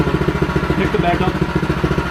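Predator 212 engine fitted to a Monster Moto mini bike, running with a steady rhythmic low chugging pulse, close and fairly loud, with a slight rise in pitch as it revs.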